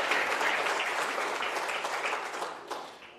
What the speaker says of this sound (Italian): Alzatevi in piedi, fate un applauso.